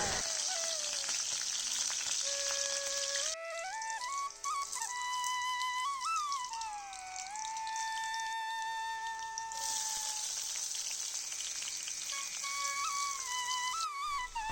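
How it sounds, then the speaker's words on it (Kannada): Mustard seeds, onion, chana dal and tomato frying in oil with turmeric and salt, a steady bright sizzle running throughout beneath melodic background music. "ಸಾಸಿವೆ ಮತ್ತು ಈರುಳ್ಳಿ ಕಡಲೆಬೇಳೆ ಟೊಮೊಟೊ ಸ್ವಲ್ಪ ಅರಿಶಿನ ಉಪ್ಪು ಹಾಕಿ ಚೆನ್ನಾಗಿ ಫ್ರೈ ಮಾಡ್ಕೋಬೇಕು"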